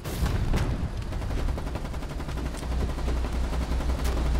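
Dense war-game gunfire from Foxhole crackles in rapid, overlapping bursts, with sharp nearby shots over a continuous rumble of distant fire.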